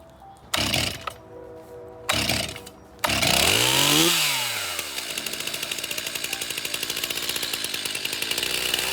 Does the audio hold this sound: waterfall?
no